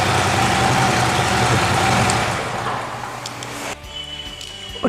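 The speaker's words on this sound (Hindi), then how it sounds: "स्क्रीमिंग के एग्जॉस्ट पर लगे हुए हैं, काफ़ी लाउड है जो कि मैं आपको आवाज़ सुनाता हूँ" A Harley-Davidson CVO motorcycle with a loud Screamin' Eagle exhaust rumbles at close range, a deep steady idle that eases off toward the end, with no talk.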